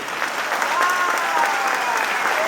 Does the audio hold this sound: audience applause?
yes